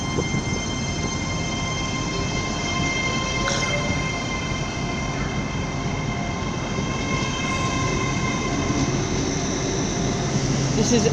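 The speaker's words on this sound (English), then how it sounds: "Now about to depart is the London Paddington Great Western Railway service." A Great Western Railway Class 802 train on the London Paddington service pulls away from platform 2 at Cardiff Central. Its engine and rail noise rumble steadily and loudly throughout, with faint tonal whines above.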